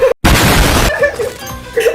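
A mine blows up in the Granny Simulator video game, a loud sudden burst that roars briefly and then fades, with a voice talking over the tail.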